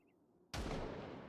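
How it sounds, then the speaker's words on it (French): A single loud gunshot in the video game Project Zomboid bursts suddenly out of near silence, its heavy boom trailing into a rumbling decay. "le coup de feu l'a réveillé"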